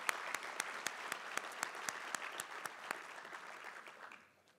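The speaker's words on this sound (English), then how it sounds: "Let's give them an incredible round of applause" Audience at a Spokane County civic event breaks into steady applause, dense clapping with sharp accents that holds for about four seconds and then quickly fades out.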